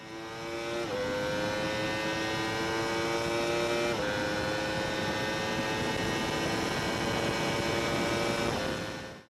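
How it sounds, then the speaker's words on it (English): A 998cc liquid-cooled inline four-cylinder motorbike engine rated at 189 horsepower revs hard and loud, its pitch climbing steadily, then dropping sharply at each upshift, two or three times in a row, with no talking. "998cc liquid-cooled inline 4-cylinder motorbike"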